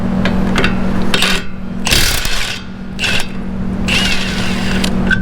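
A power tool, likely an impact gun, rattles off the size 22 strut bolts on a Toyota RAV4, loud close bursts separated by short pauses, with metallic clanks between them.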